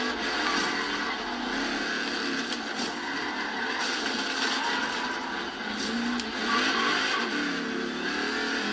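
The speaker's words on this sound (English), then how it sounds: "that pop of the exhaust as well" Car engine in Forza Horizon 3 revving continuously with exhaust pops, a steady mid-level engine drone with brief crackling bursts, no talk.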